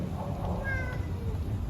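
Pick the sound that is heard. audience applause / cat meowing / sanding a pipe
cat meowing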